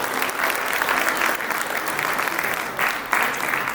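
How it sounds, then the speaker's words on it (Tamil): An audience at a village Pongal celebration's debate stage event breaks into sustained applause, a bright, even wash of many clapping hands that swells and dips briefly without any voices over it. "உங்கள் கைத்தட்டல்."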